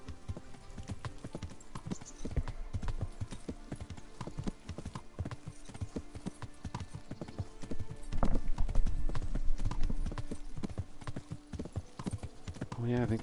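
Horse hooves clip-clopping steadily in the video game Kingdom Come: Deliverance, a close, rhythmic trot that grows louder and denser midway, with talk over it.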